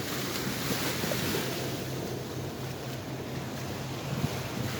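Wake from a passing riverboat washing against a smoky river shore in Yakutia: steady broadband surging water, near and continuous, with wind buffeting the microphone and no talk.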